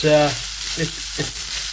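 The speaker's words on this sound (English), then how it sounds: "Cooking the pork with the spices cooks the spices a little bit more" Pork fries with spices in a pan, giving a soft steady sizzle that continues beneath brief bits of a speaking voice near the start.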